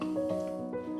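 A house cat gives a drawn-out, wavering meow followed by a second shorter cry, close and clear in a quiet room.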